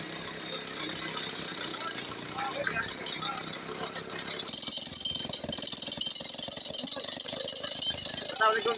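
A rock drill hammers continuously while clearing a landslide on a mountain road, producing a loud, dense, rapid pounding clatter with engine rumble. Someone talks over it throughout.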